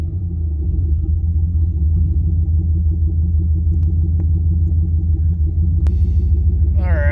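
Turbocharged Cadillac Escalade engine idling through a cold-start heat cycle, a steady close low rumble with even pulsing that holds throughout, with a brief faint voice near the end.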